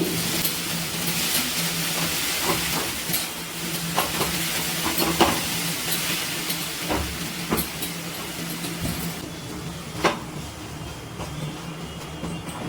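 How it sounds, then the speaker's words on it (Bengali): Grated carrots fry in ghee in a pan over a low-to-medium gas flame, giving a steady, soft, close hiss and sizzle with a few faint clicks and taps scattered through it. "গ্যাসের ফ্লেমটা লো টু মিডিয়ামে রেখে আমি কিন্তু গাজরটা কিছুক্ষণ ভেজে নিচ্ছি"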